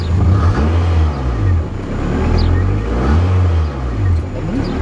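A car with an aftermarket exhaust and its valve open revs repeatedly, each loud close rise and fall of engine pitch following the last in a rhythmic series, with faint voices in the background.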